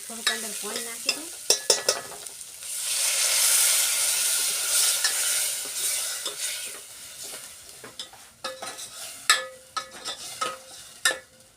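Water poured into a pan of frying Gujarati curry with turmeric, chili, garam masala and cream bursts into a loud hissing sizzle that fades to a softer bubbling, while a spoon clatters and stirs intermittently.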